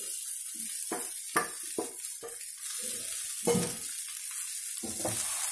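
Idli upma mixed with idli powder is stirred in a pan, giving a series of short scraping and shuffling strokes at an irregular pace over a constant hiss, close up, with no one speaking.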